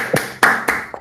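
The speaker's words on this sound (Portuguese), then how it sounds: "Palmas eternas." Audience at a UX research career talk applauding, heard as a few sharp, distinct claps spaced across a second rather than dense crowd applause.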